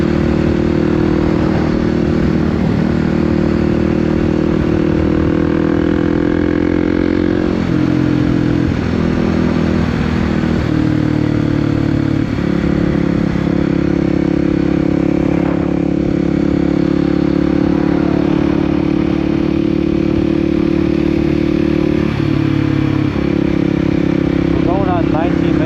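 A motorcycle engine runs steadily throughout a solo first ride, a loud close drone with small pitch shifts as the rider changes speed and gears.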